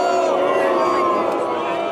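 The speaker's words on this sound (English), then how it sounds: "The huge crowd by the beach wasn't booing the ref or a player, but the city itself." A huge crowd of football fans packed in front of a big screen by the beach, a dense continuous roar of voices and crowd noise throughout, loud and unbroken with no single voice standing out.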